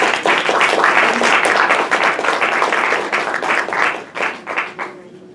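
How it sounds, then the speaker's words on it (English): A lecture audience welcomes a visiting professor with a loud, dense round of applause that holds steady, then tapers into a few last scattered claps before falling quiet. "Please help me welcome Dr. Jean Bell-Villada to Southern with a round of applause."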